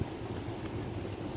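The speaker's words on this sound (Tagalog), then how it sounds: "My God, ang lakas ng hangin." Strong wind blows through an outdoor dust storm in hot sun, a steady, loud rushing roar buffeting the microphone throughout.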